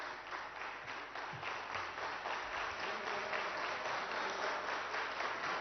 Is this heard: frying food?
no